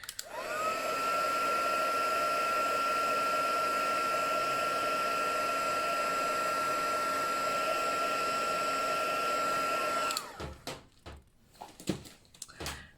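A heat tool runs over embossing powder on a papercraft piece, a loud, steady blowing whine held for about ten seconds before it cuts off, followed by a few soft clicks and handling sounds.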